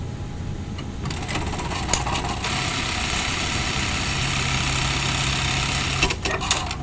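A buttonhole sewing machine with its rotating hook out of timing runs at increased speed, giving a steady, continuous mechanical whir that stays close and even throughout without speech.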